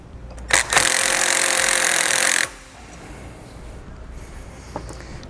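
Power drill driving a large self-tapping Phillips head screw to mount an RV slide-out awning rail, a loud close whirring burst of about two seconds that stops abruptly, followed by quiet handling sounds.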